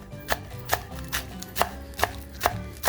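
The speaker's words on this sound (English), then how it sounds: "So we're gonna cut our green onions." Knife chopping green onions on a cutting board, with about eight evenly spaced sharp taps close up and no talking.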